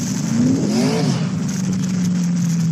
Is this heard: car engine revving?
yes